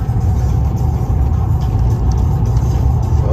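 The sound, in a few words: truck driving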